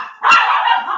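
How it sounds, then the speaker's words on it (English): A dog gives a single loud, close bark that holds for a moment before trailing off. "Damn dog."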